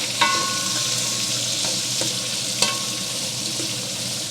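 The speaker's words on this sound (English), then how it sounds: "Now we're going to add in half of the carrots, half of the celery, half of the sliced onions. And we're just going to mix that up" Carrots, celery and sliced onions sizzle steadily in a pot while being stirred for braised oxtail, with a couple of sharp spoon scrapes against the pot over the constant close frying hiss.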